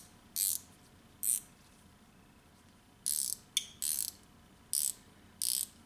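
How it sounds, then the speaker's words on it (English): GearWrench ratcheting wrench gears click in six short, quiet bursts spaced about a second apart, each a quick run of fine metallic ticks against near silence. "I can definitely feel the gears inside the gear wrench better, more pronounced."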